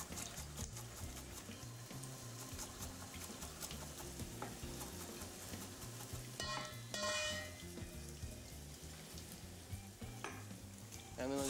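Eggplant sizzles and fries in a pan, a continuous hiss of hot oil with occasional sharper crackles and the clink of a utensil turning the pieces, close and quiet, no talking.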